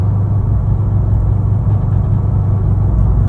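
A modified 740 hp C6 Corvette Z06 engine lugs low in the revs, a loud, steady deep rumble with little variation as it bogs down through the gears.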